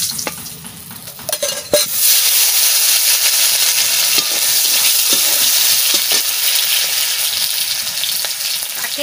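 Potatoes fry loudly in hot oil in a pan over a wood fire, with a constant close sizzle and occasional scrapes and clinks of stirring.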